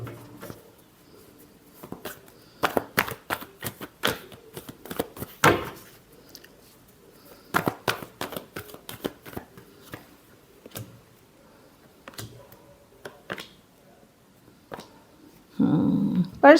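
Tarot cards get a final hand shuffle, with sharp close clacks and riffles in irregular bursts and quieter gaps, ending in a brief louder rustle.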